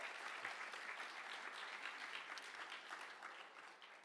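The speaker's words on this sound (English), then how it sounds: "So let's have a nice round of applause for her." Sustained applause from an audience at a scholarship awards ceremony, a steady even patter of many hands clapping at moderate distance, fairly faint, with no voices over it.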